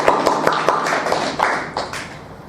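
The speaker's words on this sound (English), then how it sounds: "So a sound of applause for them." Audience at a PyCon UK 2016 conference talk applauds for the event helpers, a dense patter of many hands clapping, moderately loud, tapering off toward the end.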